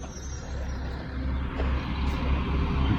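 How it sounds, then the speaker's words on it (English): Garbage truck at a residential concrete pour site, a steady low diesel engine rumble with rising and falling roar, close and fairly loud, no talk over it. "and a garbage truck."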